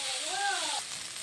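Curry base ingredients for a chicken curry sautéing in a pan, a steady broadband sizzle that fades slightly partway through, with a brief tonal whistle over it.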